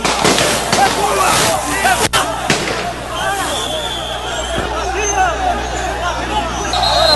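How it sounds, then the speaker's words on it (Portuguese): Several sharp gunshots crack through the loud, dense roar of a protest crowd in Praça Floriano Peixoto, an open square, with the clamor continuing throughout. "Alguns disparos aqui na Praça Floriano Peixoto."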